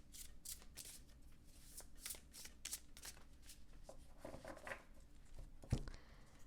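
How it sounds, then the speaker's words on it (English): Tarot cards being shuffled by hand in a quiet room, a steady run of soft riffling and papery flutters with occasional louder snaps, close and fairly faint with no talking. "let's pull some tarot cards and see what else there is for you here"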